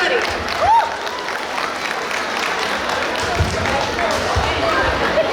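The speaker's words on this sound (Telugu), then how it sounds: "మరి మొహమాట మీద గట్టిగా కొట్టేయండి చప్పట్లు" An audience claps loudly and continuously at a stage program, a dense, steady wash of applause filling the whole stretch with no break.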